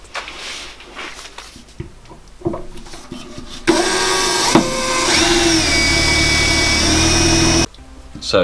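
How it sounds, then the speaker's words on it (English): After a few quiet knocks, a drill grinds loudly and steadily through metal, drilling out spot welds on a Mazda MX5's anti-roll bar brackets for several seconds, then stops abruptly. "The anti-roll bar brackets are actually spot welded right in between the 2 bolts, so we'll have to drill that out."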